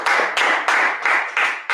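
A church congregation claps in a strong regular rhythm of about five or six loud, close, evenly spaced bursts. There is no talk over the clapping.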